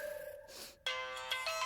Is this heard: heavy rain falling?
no